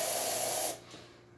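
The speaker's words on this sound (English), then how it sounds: "Nice strong steam." Alex Duetto espresso machine steam wand sends out a strong, loud hiss of steam that holds steady for about three quarters of a second, then cuts off abruptly, leaving only a faint residual hiss.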